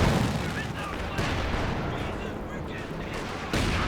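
A Scott artillery barrage in Company of Heroes 2 rumbles through a dense, continuous wash of battle noise, with repeated booming impacts and gunfire layered close together.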